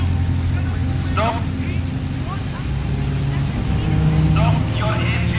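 Boat engine running steadily, a continuous low droning hum throughout, with faint shouting voices and other background noise over it.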